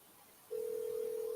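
A steady telephone dial tone starts abruptly and holds at an even pitch while a call is being placed, quiet and alone over faint background hiss.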